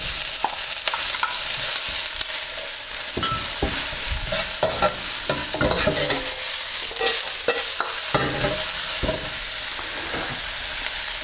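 Onions stir-fry in a hot pan for a Chinese takeaway-style satay beef, with a bright, hissing sizzle and frequent clacks and scrapes from vigorous tossing. The sound stays close and busy throughout, and no one speaks.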